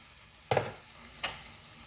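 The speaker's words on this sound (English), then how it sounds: "Let's mix that up." Broccoli stir fry with sauce tossed in a hot pan: two quick scraping stirs close by, the first louder, set against a steady sizzle with no talking.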